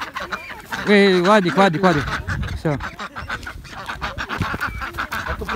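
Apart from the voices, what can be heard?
geese honking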